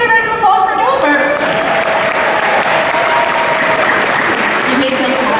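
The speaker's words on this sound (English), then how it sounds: "Can we have a round of applause for Gilbert?" A large convention crowd at MCM Comic Con London 2019 breaks into dense, sustained applause during an IT film panel, a loud continuous wash of clapping with a few voices at the start.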